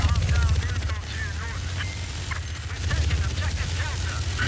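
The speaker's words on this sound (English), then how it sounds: "That was their heli then." An enemy helicopter in a Battlefield game thrums steadily underneath, a low rotor drone mixed with battlefield noise while players talk over it.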